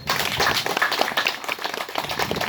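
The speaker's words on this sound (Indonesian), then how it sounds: "Terima kasih, tepuk tangan." An audience claps briefly at a regional legislator's public outreach meeting on child protection, a short, close burst of scattered hand clapping.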